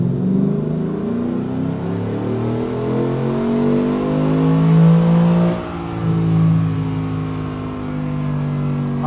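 A Gen V Silverado truck with an L86 V8, BTR 220 cam and Truck Trinity intake revs under load on a chassis dyno. Its steady engine roar rises in pitch through the pull, heard from outside the truck.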